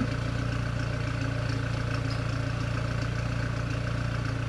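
A Renault Megane RS250 with a decat exhaust idles close by in a steady, throbbing low burble, even and unbroken throughout, with no voices.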